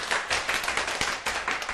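An audience at a lecture claps in a steady patter for a couple of seconds, the sound moderately close and without any talk over it.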